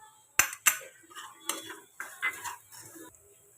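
A spoon stirring turmeric, coriander, cumin powder and salt into fried ground chilli in a pan, a few sharp metal clinks followed by soft scraping strokes, close and quiet with no sizzle or talk.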